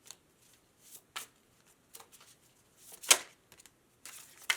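Tarot cards being shuffled and drawn by hand, soft papery riffles and slides in scattered short bursts with one sharper flurry, close and quiet with no talking.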